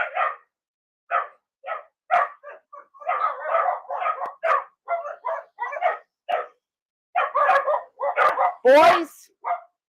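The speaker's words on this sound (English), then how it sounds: "these dogs are crazy" Several dogs barking excitedly outdoors, a rapid run of loud, close yips and barks with short gaps, ending in a higher whining yelp.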